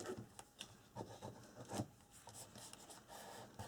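Glued paper on a calendar album is burnished by hand, a faint close scratchy rubbing made of short strokes in an uneven rhythm, with no talk.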